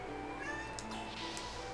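A pet cat meows several times at close range, the calls rising and falling over a steady background of video game music and ambient hum during a stream of Xenogears.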